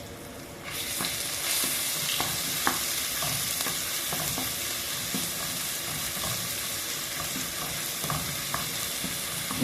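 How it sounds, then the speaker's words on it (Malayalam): A tomato paste mixture for a homestyle seer fish curry sizzles hard in the pan while it is stirred, a dense continuous frying hiss broken by frequent soft scraping and tapping strokes from the spoon, close and without speech. "ഒന്ന് ഇളക്കി മറിക്കാൻ പോവുകയാണ്."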